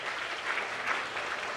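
Church congregation clapping at an Easter worship service, a dense, steady patter of many hands sustained throughout.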